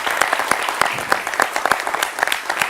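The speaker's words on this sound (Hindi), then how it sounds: "ये राशिद साहब के लिए तालियां हैं।" Studio audience applause for journalist Rashid Kidwai during an election opinion-poll programme, a brief burst of crisp, scattered claps at moderate loudness with no talk over it.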